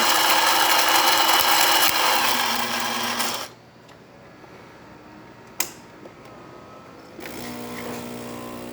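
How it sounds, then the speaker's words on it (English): A Gaggia Anima Prestige coffee machine's built-in grinder whirs loudly and harshly for about three and a half seconds, falls silent apart from a single sharp click, then starts grinding again near the end. "And there you have it, Gaggi Anima Prestige grinding once again."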